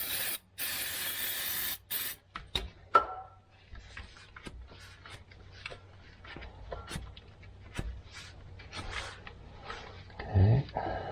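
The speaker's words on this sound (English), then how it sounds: "I'm going to spray some brake clean there just to get any dirt out of there" Brake cleaner hisses from an aerosol can onto a Chevrolet transfer case in two strong bursts, followed by quiet clicks and handling noises in a calm workshop.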